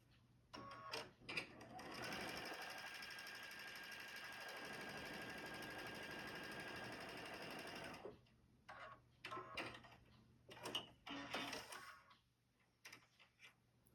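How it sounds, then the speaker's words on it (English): A sewing machine stitches quilt block pieces sewn right sides together, running as one steady whir for about six seconds between shorter stop-start bursts and clicks. "I'm going to take this piece and I'm going to put it right sides together right here,"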